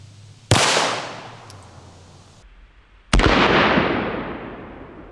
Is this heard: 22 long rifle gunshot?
yes